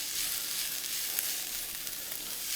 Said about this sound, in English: I want to add my carrots. And I'm going to let these saute for a little while.